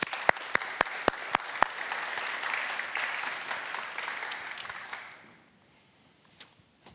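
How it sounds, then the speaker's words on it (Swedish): A hall audience applauds to welcome a speaker onto the stage: several sharp close claps at the start, then dense sustained clapping that fades out around five seconds, leaving near silence with a few stray claps. "därmed tycker jag vi kan välkomna Josefina upp på scen med en applåd"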